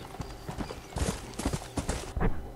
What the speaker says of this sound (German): Gehen wir auf unser Pferdchen. Ja, das ist unser Pferdchen.